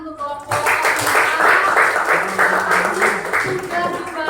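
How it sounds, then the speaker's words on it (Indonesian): Classroom applause for a student group that has just finished presenting during a geography teaching session, a dense wash of clapping lasting several seconds with voices murmuring underneath. "Tepuk tangan untuk kelompok"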